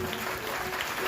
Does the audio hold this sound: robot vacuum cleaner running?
no